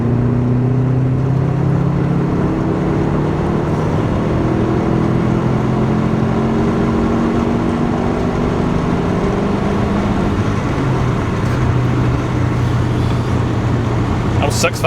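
A 2005 Subaru Forester STI engine, heard from inside the car on the road, climbs in a long rising drone toward 6,000 RPM with a steady loud rumble and gear-change dips, while the cabin remains otherwise quiet.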